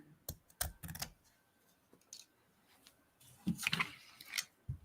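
Scissors trim ribbon ends on a shoelace-style bow for a Dollar Tree pumpkin craft. Quiet close snips and clicks arrive in small irregular clusters with pauses between them.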